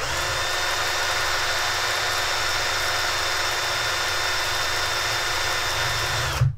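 A brushless motor spun up on phase three for a Kv test gives a loud, steady high-pitched whine with a constant tone, running throughout and cutting off abruptly at the end.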